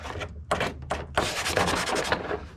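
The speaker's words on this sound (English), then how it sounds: "make sure all these little plastic edges that are sticking up, the little burrs, are cleaned off" Burrs being scraped and rubbed off plastic interior trim edges in a Ford F-150 OBS pickup, heard as close, bursty scratching strokes in irregular rhythm with short pauses between them.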